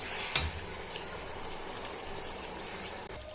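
Tamarind chutney with red chilies is stirred in a pan, giving a soft, continuous sizzle and wet scraping, with one sharp clink near the start and a quieter knock toward the end.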